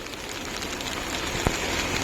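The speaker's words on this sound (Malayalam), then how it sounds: "മൊത്തം ഇടിവെട്ട് മഴയാണ്." Heavy rain pours outdoors in hilly country, a dense, steady hiss of falling water that stays constant throughout, with one sharp brief knock midway and no distinct thunder.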